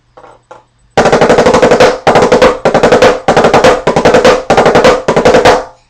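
Loud, crisp snare drum playing rapid five-stroke rolls in repeated bursts, each a tight cluster of strokes separated by short gaps, after a couple of quiet taps.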